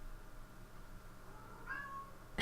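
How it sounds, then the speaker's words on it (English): A cat meows once in the background, a faint, brief call rising late in the clip over a quiet room, with no talking. "That's the other cat making noises in the background."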